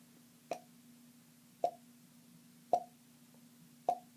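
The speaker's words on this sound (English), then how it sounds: "It's sort of making a little pop sound." Four hollow popping sounds made by a finger popping out of a cheek, spaced about a second apart, crisp and close, over a faint steady hum.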